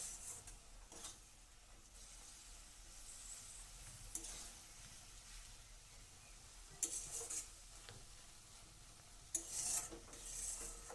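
Leafy greens being stirred and dry-fried in a pan, a quiet, steady low sizzle broken by a few brief scraping bursts from the stirring spoon, with no talking.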